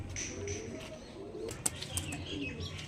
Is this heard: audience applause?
no